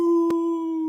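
A person imitating a red wolf howl during a sports show, one sustained steady howling tone held loud and close for about a second.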